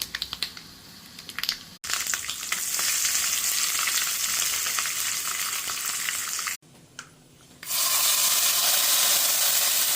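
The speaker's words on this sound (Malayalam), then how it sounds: "കുറച്ച് കടുകും ഉലുവയും ഒന്ന് പൊട്ടിച്ചെടുക്കാം." Mustard seeds and fenugreek splutter and crackle in hot oil for a tangy tamarind curry, a loud dense sizzle with sharp pops that cuts out briefly twice, then returns.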